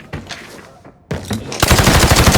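Gunfire in the shooter game Arena Breakout, with a few sharp shots and then a dense, rapid automatic burst that gets louder and keeps going to the end.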